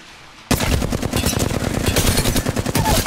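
Rapid automatic gunfire in a shooter video game erupts suddenly after a brief quiet moment and continues as loud, dense bursts to the end.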